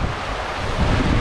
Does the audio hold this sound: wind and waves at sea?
yes